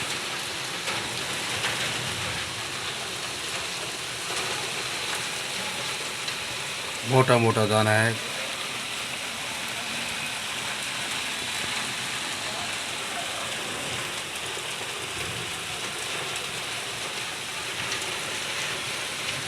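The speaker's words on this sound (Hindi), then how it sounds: "माशाल्लाह बहुत बारिश हो रही है हमारे पास।" Heavy rain pours steadily and densely across the whole stretch, a constant hiss with a brief spoken comment about a second in.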